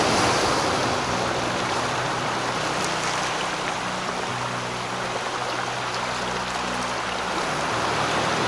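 Sea surf washing onto the beach at Foz dos Ouriços near Almograve, Portugal, a steady broadband roar of waves with no talk, loud and continuous throughout.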